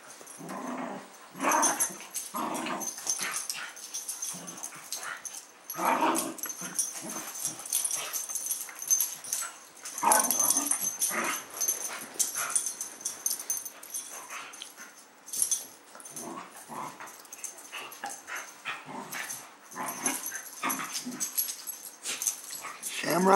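Dogs growl, wheeze and whimper in repeated bursts during a tense standoff over food, the snarls rising and falling close by with brief quieter gaps between them.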